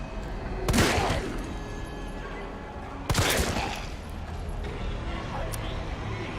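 Two loud bursts of gunfire from the Resident Evil 3 video game, about two and a half seconds apart, each ringing out over a steady background of game ambience.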